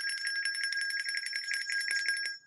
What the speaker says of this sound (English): let's get some bells going.